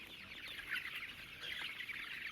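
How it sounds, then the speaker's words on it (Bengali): Chickens in a poultry shed cluck softly in the morning sun, a faint continuous chatter of overlapping calls from several birds at a modest distance. "সকালে রোদে মুরগিগুলো একটু রোদ পোয়াচ্ছে"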